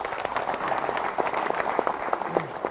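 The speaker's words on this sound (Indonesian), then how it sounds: "Kita berikan tepuk tangan dulu." Steady applause from a seated audience at a regional quiz competition in Jakarta, dense clapping that carries on evenly throughout with a faint murmur underneath.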